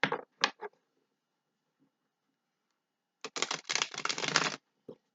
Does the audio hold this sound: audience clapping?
no